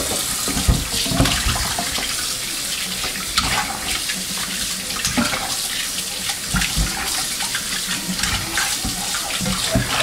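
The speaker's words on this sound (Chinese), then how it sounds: "先把鸡腿洗一下。" Chicken drumsticks are washed under a running kitchen tap, with a loud, continuous stream of water splashing and gurgling close by.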